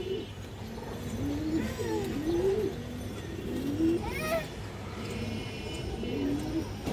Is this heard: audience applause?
no